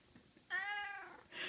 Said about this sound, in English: Who's that Mel's kitten?